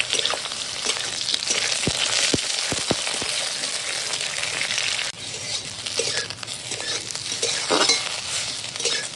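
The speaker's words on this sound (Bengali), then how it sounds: "ফোড়নের সঙ্গে বেগুনটা একটু সময় ভেজে নেব" Cut eggplant fries with tempering of green chillies and black cumin in a hot pan, a loud continuous sizzle with bursts of crackling and a few sharp utensil knocks, no talking.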